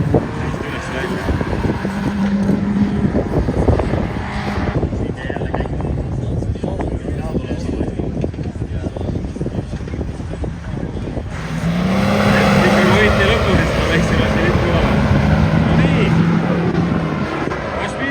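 Large Ineos Grenadier 4x4 climbing uphill from a standstill, a steady engine drone with road noise that grows louder and fuller partway through, under ongoing conversation.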